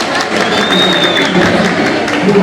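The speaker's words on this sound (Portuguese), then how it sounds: "uma salva de palmas ao professor Igor Diniz" An expo audience applauds a professor arriving to give a talk on sexuality in pregnancy. The loud, steady clapping and crowd noise run throughout, with voices mixed in.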